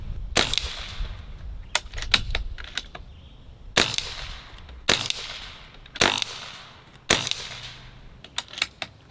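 Several sharp airgun shots from a Beeman Chief II .22 firing 13.43 grain pellets, loud cracks spaced irregularly with metallic ticks and pellet impacts between them, no talking.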